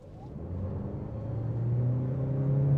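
A 2025 Toyota Corolla Cross Hybrid accelerates. Its low engine and motor drone climbs steadily in pitch and builds in loudness over a few seconds, with no talk over it.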